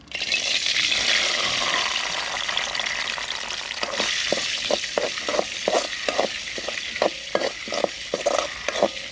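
Kalimi berries frying in hot oil in a village kitchen, with a steady loud sizzle. Several rhythmic scraping stirs come in during the second half, close up, with no voices.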